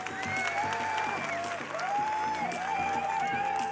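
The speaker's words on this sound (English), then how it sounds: "join me in giving a round of applause to our winner" Audience applause for a young winner of a story-writing contest at a cultural program, a steady, moderately loud patter that continues throughout, with a sustained melodic tone sounding over it.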